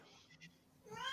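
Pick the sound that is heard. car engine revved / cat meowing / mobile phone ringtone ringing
cat meowing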